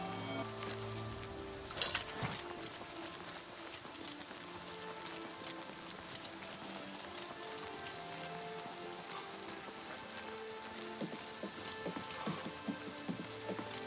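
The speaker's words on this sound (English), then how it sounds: "It's always raining here." Steady rain patters throughout in Oblivion Remastered, played on PS5, with a brief sharper burst near the start and faint scattered game sounds, moderate and continuous with no talking.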